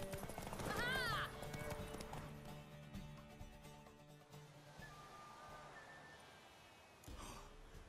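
Horse hooves clopping and a whinny from The Witcher 3, with a mare on offer, heard under game music and speaking voices. The neigh comes early, then the hoofbeats fade into background ambience.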